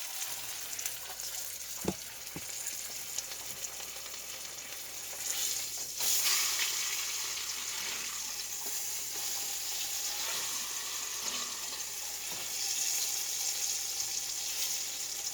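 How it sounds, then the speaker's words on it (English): Chuck roast browning in oil in a pan, a continuous close sizzle and crackle with a few sharp clicks, swelling louder partway through and holding steady without talk. "I'm just going to brown it on all the edges, and then I'll flip her over."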